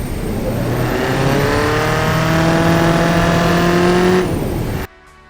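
A sporty economy car in the Automation video game revs hard on a test track, its engine note climbing through several gear changes in loud, steady pulls before cutting out abruptly near the end.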